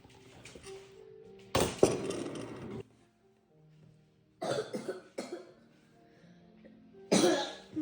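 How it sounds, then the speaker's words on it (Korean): Three harsh, loud coughing fits come in separate bursts with quiet gaps between, close to the listener, over faint background clatter. "왜 감기 걸렸어? 왜 기침해?"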